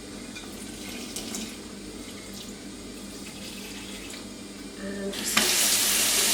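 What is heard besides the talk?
tap filling sink with hot water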